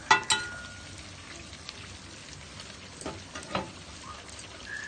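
Chicken pieces frying in a pan for homemade KFC-style chicken, giving a faint, steady sizzle with a few sharp crackles and pops near the start and later, heard close up with no voices.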